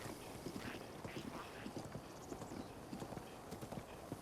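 A horse gallops in The Legend of Zelda: Breath of the Wild, its hoofbeats a rapid, steady clip-clop that stays close and even throughout, over a soft ambient wash with no talking.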